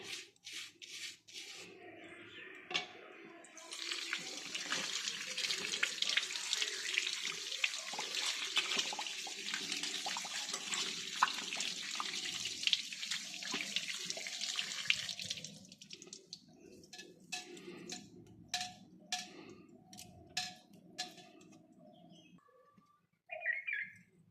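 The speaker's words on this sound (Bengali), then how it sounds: "তো চলো আমি এটা এখন ধুয়ে দেখাবো ঠিক কতটা পরিষ্কার হয়েছে" Anklets are rinsed under a running tap, water gushing steadily for about twelve seconds with rubbing and handling, then stopping, followed by scattered drips and small clinks; faint birdsong sits in the background.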